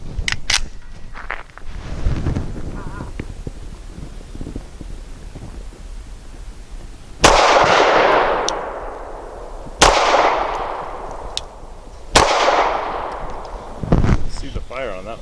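An Archon Type B pistol fired outdoors with Remington UMC 124 grain ball rounds: three loud, sharp shots a few seconds apart, each with a ringing decay, after some quieter handling sounds and low voices.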